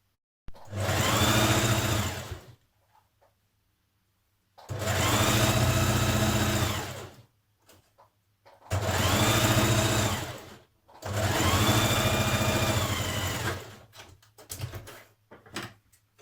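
Sewing machine stitching a 1.5 cm seam allowance on the front of a Burda 6240 summer dress, four sustained runs of a few seconds each separated by short pauses, close and steady, with no talking.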